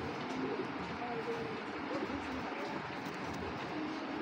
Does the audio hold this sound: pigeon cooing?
yes